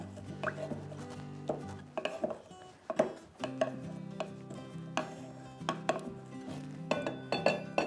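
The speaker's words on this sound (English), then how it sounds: "I'm gonna go ahead and muddle these ingredients to get a little bit more of that ginger flavor" A muddler presses ginger slices into ginger simple syrup in a glass, giving a series of irregular dull knocks and grinding thuds with faint scraping between them, close up, no talking.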